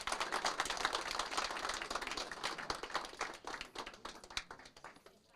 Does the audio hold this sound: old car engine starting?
no